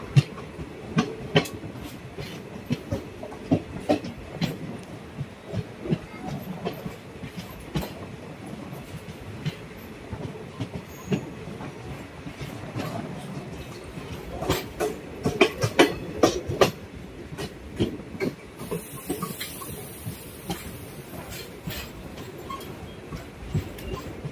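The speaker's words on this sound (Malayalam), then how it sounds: "ട്രെയിൻ ഇപ്പോൾ കഴക്കൂട്ടം റെയിൽവേ സ്റ്റേഷനിലോട്ട് എത്തിക്കൊണ്ടിരിക്കുകയാണ്" The Punalur-Madurai Express rolls into Kazhakkoottam railway station. Wheels clatter over rail joints in an uneven rhythm, heard from on board, with occasional sharper knocks and a faint high squeal late on.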